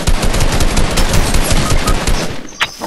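Dense, loud bursts of automatic gunfire in the video game Fortnite, a continuous rattling volley that stops abruptly near the end, followed by a brief tonal game sound, with no talk.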